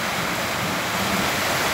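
Heavy rain pours down on a ranch during a thunderstorm, a dense, steady broadband hiss and roar that stays loud and unbroken throughout, with no voices.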